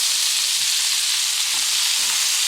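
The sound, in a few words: eggs and bacon frying in a pan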